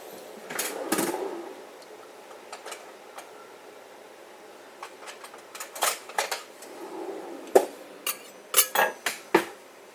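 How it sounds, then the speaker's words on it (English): Raisin bagel slices clatter into a toaster as a series of sharp clicks and knocks, sparse at first and then thicker toward the end, fairly close with no voice. "First thing you gotta do is you put the raisin bagel slices in the toaster"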